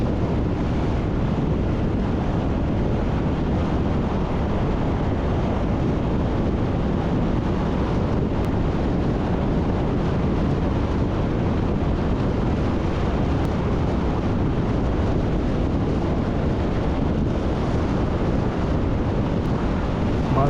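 Strong wind roars steadily across the microphone during a motorcycle ride on an open road, a constant loud broadband rush with no break and no voices.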